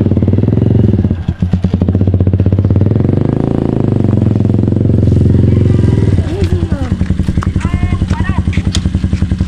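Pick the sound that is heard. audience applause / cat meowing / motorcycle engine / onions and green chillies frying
motorcycle engine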